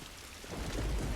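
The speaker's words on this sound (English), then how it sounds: "And also get out of the rain. It's so wet out here." Rain and rolling thunder in The Last of Us, quiet at first, then a loud low rumble swelling over steady rainfall from about midway, with no voices.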